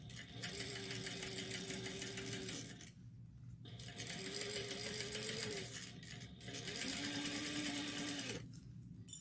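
A sewing machine stitches a seam with back stitching in three bursts of steady, close whirring, each separated by a brief pause as the direction changes.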